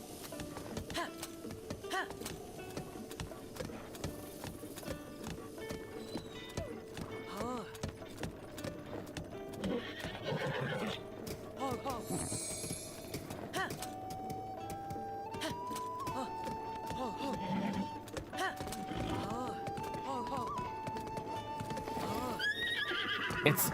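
Horse neighing and hooves clip-clopping in a video game, with whinnies over a steady bed of hoofbeats and ambient game noise, moderately loud throughout.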